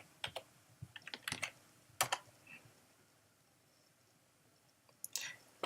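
Keys click on a computer keyboard as an admin password is typed in OS X: short, quiet bursts of taps, then a pause before a final few clicks, close and soft.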